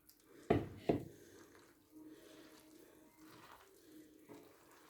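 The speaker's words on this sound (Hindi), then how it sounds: "और इसमें हम थोड़ा सा पानी ऐड करेंगे।" Water is poured into chicken and potato pakora batter being mixed by hand, two sharp splashy bursts early on followed by softer wet squishing and sloshing.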